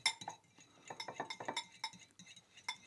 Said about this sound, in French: Maintenant, vous allez vous munir de nouveau de la fourchette. Et vous allez me faire un mélange homogène.